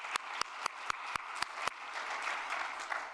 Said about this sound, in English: I think the panel gets applause.